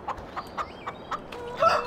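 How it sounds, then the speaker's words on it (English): A rooster in the Farming Simulator 15 video game clucks in short, evenly spaced bursts, then gives a louder squawking call at the end, fairly faint and alone. "This is the rooster."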